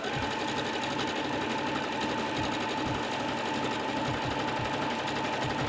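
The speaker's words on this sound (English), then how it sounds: "with the zigzag stitch we're just going to go down each of the edges" A sewing machine runs a zigzag stitch down the edges of t-shirt pieces, a steady, loud, continuous mechanical hum with a fast regular needle rhythm and no talking.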